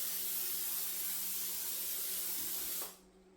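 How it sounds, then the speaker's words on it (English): A steady, close hiss of cooking spray onto a pan sprays continuously for about three seconds, then cuts off abruptly. "I am gonna spray it."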